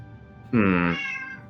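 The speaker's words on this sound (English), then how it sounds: "They seem to be Meowing" A single cat meows loudly and clearly once, a drawn-out, strongly tonal call in a small cabin, standing out close and alone above a faint steady background hum.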